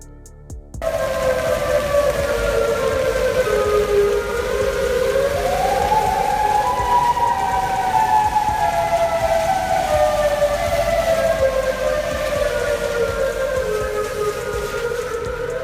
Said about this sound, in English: Listen to this one in Chicago. This has got to be the creepiest siren I've ever heard.